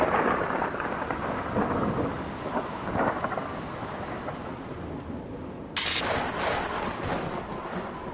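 A night thunderstorm with heavy rain pours steadily while low thunder rolls and rumbles, then a louder crack of thunder breaks in partway through and the downpour continues hissing.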